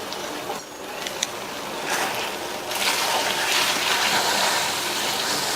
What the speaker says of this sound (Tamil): மிக்ஸி ஜாரை கழுவி கொஞ்சமா தண்ணி